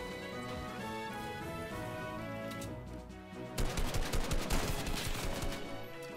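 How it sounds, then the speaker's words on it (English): Rapid gunfire in the video game Fortnite, a dense burst of automatic shots cutting in partway through over a steady bed of game music and ambience. "There's gunfire over there, by the looks of things."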